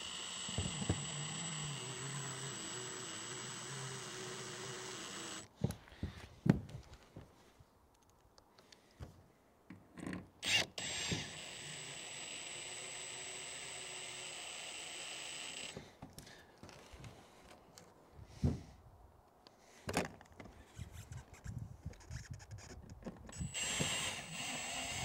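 Old stainless screws are driven into an RV roof vent in short bursts of a close power driver whirring, separated by pauses, clicks and handling noises.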